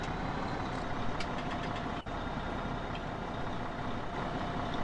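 A tractor engine idles steadily in Farming Simulator 17, a continuous dense mechanical rumble with a brief cut near the middle, fairly loud and unbroken by talk.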